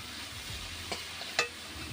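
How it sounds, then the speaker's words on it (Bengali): Soft, steady sizzling of salted, sugared leafy greens frying in a pan, broken by two quick taps of a spatula. "দেখো শাকটা আমার ভাজা হয়ে গেছে"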